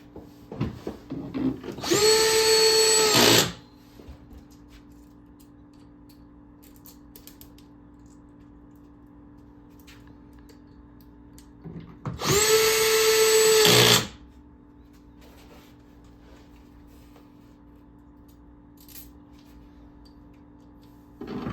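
A power driver sends screws into the holes of an upright arcade cabinet in two separate loud whirring bursts, each lasting a second or two, with a long quiet gap between them.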